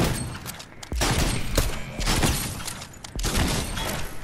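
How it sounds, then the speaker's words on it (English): A shotgun fires in the Fortnite video game: several sharp, loud blasts spaced about a second apart, with crackling in-game background noise between the shots. "Let's see how the shotgun works."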